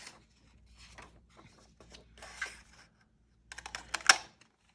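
Scraps of patterned paper are punched into hexagons with a hex punch, giving quiet scattered clicks and rustles, then a cluster of sharper, louder snaps near the end.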